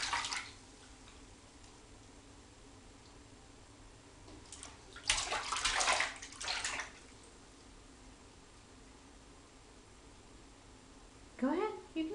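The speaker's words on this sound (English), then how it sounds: "Are you taking a bath? Taking a splash?" Water splashes in a bath in a few brief bursts separated by quiet stretches of dripping and room tone, with a voice speaking near the end.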